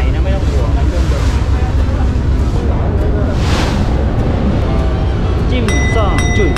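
Old-style ferry boat with a new engine crossing the water in Hong Kong, a constant rumbling engine and water wash with strong wind buffeting, and a brief high tonal squeal near the end.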